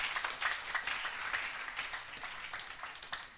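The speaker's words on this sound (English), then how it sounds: "Can we clap our hands together for Jesus?" Audience at a church healing testimony service clapping for Jesus, a continuous spread of many hands with some louder bursts, moderately distant and without talk over it.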